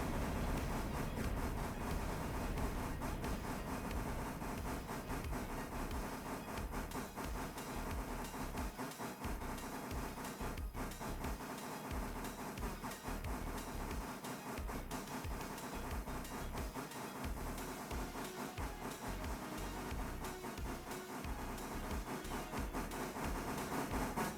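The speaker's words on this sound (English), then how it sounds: "the train is about to enter the tunnel" Train running on rails heard from on board, a steady rumbling roll with rhythmic wheel clicks and hiss, constant and unbroken.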